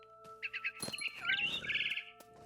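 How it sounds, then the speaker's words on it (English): A barn swallow chirping in the video game What Remains of Edith Finch, quick bright twittering calls close by, set over a quiet steady background hum. "Then I heard chirping outside my window. It was a barn swallow going back to her"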